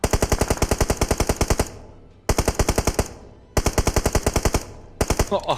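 Rapid bursts of automatic gunfire from an enemy in the mobile battle-royale game PUBG Mobile, three long loud volleys and a short fourth burst separated by brief pauses, with no talk over it.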